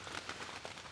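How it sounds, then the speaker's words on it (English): Light rain falls outdoors in the woods during military field training, a soft, steady patter of scattered drops close by with a few brief, slightly louder taps, and no one talking. "The rain would ease off a little bit more, but it's all right."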